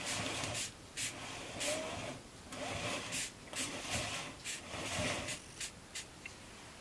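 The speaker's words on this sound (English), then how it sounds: "spray the chain." Repeated short bursts of cleaner spraying onto a motorbike chain hiss in an irregular rhythm, close by, with brief pauses between squirts and no speech.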